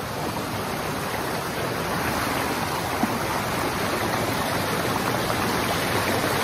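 Steady rushing water of a stream pouring over the natural rock slides at Las Pailas in Luquillo, Puerto Rico, a close, continuous broadband wash with no voices.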